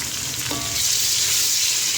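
Onions and ginger-garlic paste fry loudly in a pan for beef kofta curry, a dense steady sizzle with a faint scrape of stirring early on, no voices.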